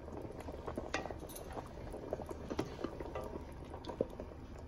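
Goat head curry simmering in a pot, soft continuous bubbling and popping up close with faint clinks of utensils and no talking.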